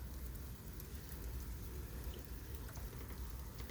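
Steady rain pattering on a surface, a dense, even hiss of drops with no voices.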